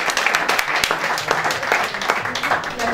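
Audience at a Miss Prestige Nouvelle Aquitaine beauty pageant applauds a candidate, a dense, continuous crackle of many clapping hands with a few sharper individual claps standing out, steady and moderately loud.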